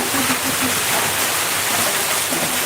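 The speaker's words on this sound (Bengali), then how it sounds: "অনেক বৃষ্টি হচ্ছে" Heavy rain mixed with hail pours down in a dense, steady roar with no letup, loud and close throughout.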